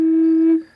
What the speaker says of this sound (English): So the left one is just the drone.